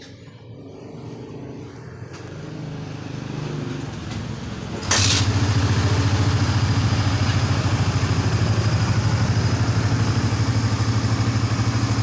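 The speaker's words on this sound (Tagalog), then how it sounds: "Kickstart na lang natin mga boss." A Suzuki GSX-S150 motorcycle is kickstarted after quiet clatter, catching abruptly and settling into a loud, steady, close idle that runs on unbroken.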